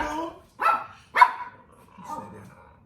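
Dogs bark in a neighborhood, three or four short, sharp barks spaced about half a second apart, fairly faint and somewhat distant.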